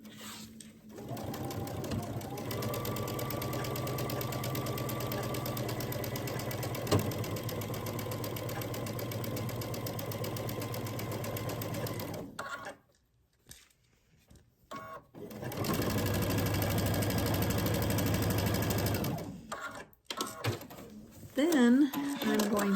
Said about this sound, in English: I'm going to sew this 1/4 inch seam all the way down the side